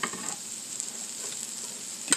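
Onions hitting an oiled griddle for smash tortilla burgers give a steady, moderate broadband sizzle with a few scraping, stirring taps, and no talking over it.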